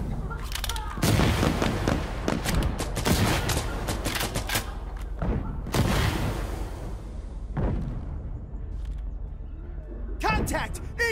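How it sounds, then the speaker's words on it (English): Explosive artillery fire in a combat video game, repeated heavy booms and bursts of gunfire in irregular clusters, loud and close, with voices talking in between. "Call for fire. Explosive artillery on this target."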